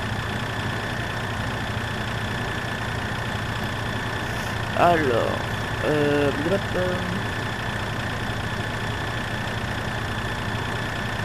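A tractor engine in the farming video game Farming Simulator 2013 hums steadily at a constant pitch throughout, while someone speaks briefly over it.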